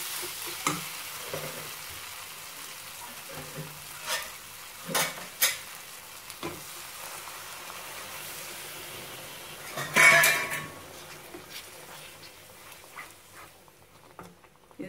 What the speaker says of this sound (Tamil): நல்லா கொதிக்கட்டும், இந்த பச்சை வாசனை போற அளவுக்கு நல்லா கொதிக்கட்டும்